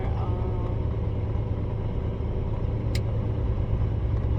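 Road noise inside a moving car, a steady low rumble of engine and tyres that hums on evenly throughout with no sharp events.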